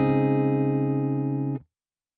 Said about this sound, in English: Currently, the rate is around 9 o'clock and it sounds like this.